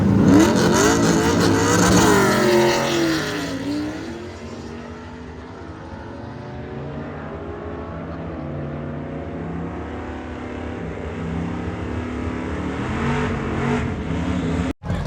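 A Trans Am with a 6.0 LS V8 and manual transmission pulls hard down a quarter-mile drag strip, the engine climbing through rising revs, dipping at a shift, then winding up again loud and close, no talk.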